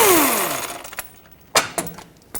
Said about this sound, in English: take a 19mm socket and remove this crank bolt